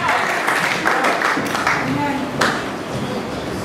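A church congregation clapping their hands for Jesus during a sermon, a dense, steady wash of many hands close by, with a voice speaking over it.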